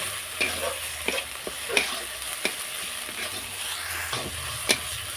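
Coriander paste stirred into a tangra fish masala in a frying pan, a steady sizzle broken by repeated sharp spatula scrapes and clicks against the pan, close up, with no talking.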